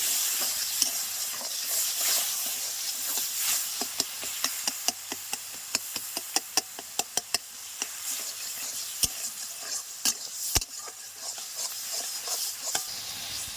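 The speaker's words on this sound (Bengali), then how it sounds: "এই কচুটা ভাজার মধ্যে দিয়ে দিচ্ছি হলুদ, পরিমাণ মতো লবণ দিয়ে একটু ভালো করে নাড়াচাড়া করে নেব।" Fried taro is stirred with turmeric and salt in a pan: a bright continuous sizzle overlaid by rapid, repeated metallic spatula clicks and scrapes against the pan, close and fairly loud.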